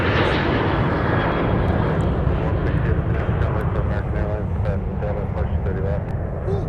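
Two airliners departing Minneapolis–St. Paul airport side by side, a Sun Country jet and a Delta Airbus A321neo, produce a loud, continuous broadband engine roar throughout, while people talk over the noise.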